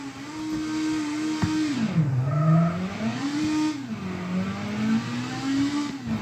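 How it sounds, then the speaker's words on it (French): Car engine in a racing video game benchmarked on a GeForce 8400 GS 512 MB, revving up and down in smooth rising and falling sweeps, loud and close with a brief tire squeal, no talk over it. "on va entendre que le moteur, voilà, vroom vroom"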